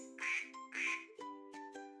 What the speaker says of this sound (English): Who says quack? It's the duck.